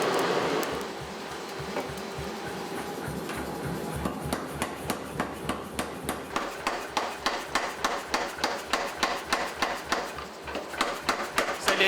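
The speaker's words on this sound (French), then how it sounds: "par martelage, on arrive à pousser la matière pour lui redonner une forme allongée" Hot Damascus steel billet drawn out under a power hammer, pounding in a steady rapid rhythm of loud close blows that grow sharper and more distinct.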